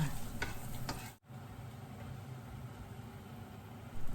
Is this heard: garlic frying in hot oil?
yes